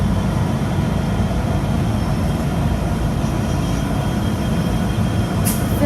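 Freight locomotives rumble past at Unanderra in a steady, loud, continuous drone of engines and rolling wheels with no voices.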